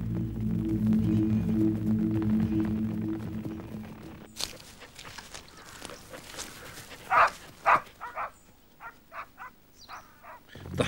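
Dogs on a hunt run at a steady canter before breaking into top speed, a low hum giving way to rapid scattered footfalls and several sharp, close barks in the later seconds.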